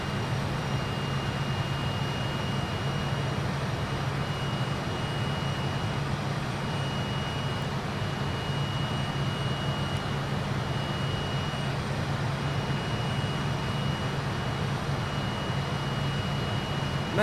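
Steady, continuous jet engine drone of a Fokker F28 in flight in a flight simulator, a broad even roar with a low hum and faint high whine, unchanging throughout with no voices.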